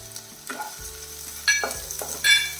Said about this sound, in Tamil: இந்த பொட்டுக்கடலை கொஞ்சம் பொரிஞ்சு வரட்டும் அது வரைக்கும் வதக்கிடலாம்